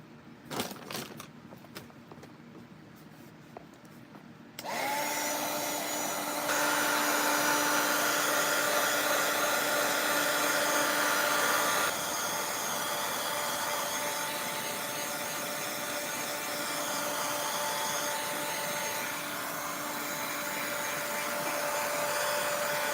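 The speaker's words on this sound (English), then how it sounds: "let's go ahead and add some heat, dry it all up." A heat tool blows steadily to dry paint on a papercraft project, starting abruptly after a few seconds of quieter background and holding a loud, continuous airy whine with a faint tonal hum until the end.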